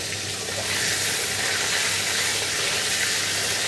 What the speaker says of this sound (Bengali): এদিকে ডিম ভাজা হচ্ছে